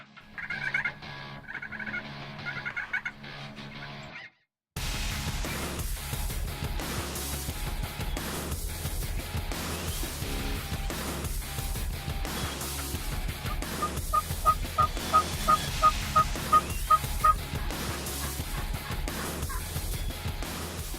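Wild turkeys gobble amid a busy outdoor mix during a spring hunt, with a quick run of sharp repeated calls standing out partway through, fairly close and loud.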